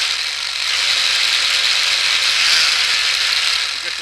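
A small plastic fan on a handmade 1/5 scale tunnel ram engine model, spun hard by an electric motor, gives a loud, close, rattling whir with a ratcheting buzz that rises slightly and then settles.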